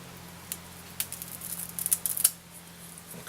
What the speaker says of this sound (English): I'll take my scissors